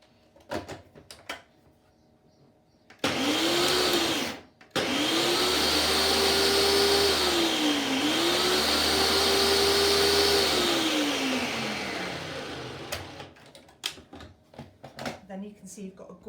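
A blender whizzes raspberry pesto with pine nuts, its motor roaring loud and steady in two long runs with a brief stop between, pitch shifting as the load churns; quiet clicks and handling noises come before and after.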